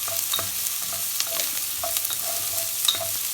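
Jalapeno and other vegetables saute in a pot for black bean soup, giving a steady close sizzle punctuated by scattered clicks and light stirring scrapes.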